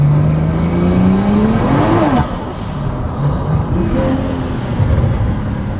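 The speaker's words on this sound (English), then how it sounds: "That turbo sounds amazing though." A tuned BMW 335i N54 turbo engine built to around 1,000 horsepower accelerates hard, a loud rising roar that climbs steadily, peaks near two seconds, then drops back to a sustained heavy rumble with a fresh rise at the end.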